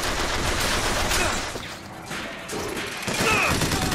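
Gatling gun firing in the Bioshock Infinite video game, a dense, continuous rattle of rapid gunfire that sounds loud and close, with a brief dip midway.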